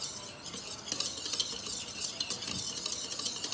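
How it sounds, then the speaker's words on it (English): A whisk stirring molasses pound cake batter in a bowl, a steady run of soft, close scraping and swishing strokes with faint clicks against the bowl, with no talking. "now we're gonna mix all of these together in our bowl here. I'm using a whisk"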